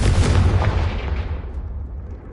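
The Confringo fire spell explodes in Hogwarts Legacy with a loud, booming blast. The rumble then fades out over about two seconds.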